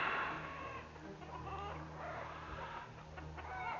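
Chickens cluck softly and repeatedly near a backyard coop, low murmuring calls under a steady hum of background noise, with no talking.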